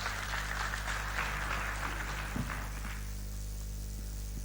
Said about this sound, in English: Let's welcome him with a clap, please